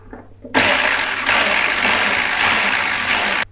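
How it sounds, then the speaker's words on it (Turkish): A handheld electric mixer whirring loudly and close as it blends liquid cake batter ingredients, milk and oil, starting abruptly after a moment of quiet and running steadily until it cuts off. "Şöyle biraz daha karıştıracağım şimdi sıvı malzemelerimi."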